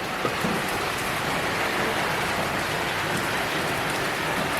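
Steady, dense rain pours down without a break, a loud, even hiss of drops striking surfaces, with no voices.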